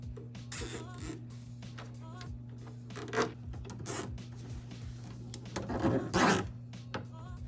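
A zip tie ratchets tight around an air suspension line fastened to the fuel lines of an E30 build, close and dry, in short raspy bursts with pauses between pulls over a steady low hum.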